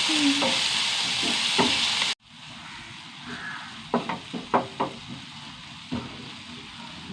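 Tomato-based gravy sautéing in a pan, a steady loud sizzle that cuts off abruptly, then quieter frying with several sharp stirring scrapes and clinks of a spoon.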